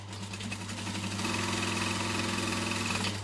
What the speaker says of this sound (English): So I'm just going to sew at the top edge